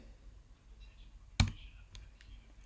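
A single sharp keyboard click while pasting code into a Colab cell, faint and close, followed by a couple of softer taps in a quiet room.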